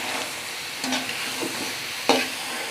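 Eggs and vegetables sizzle steadily in a pan for fried rice, with a constant frying hiss and a few scraping stirs, one sharp clack near the end, and no talk.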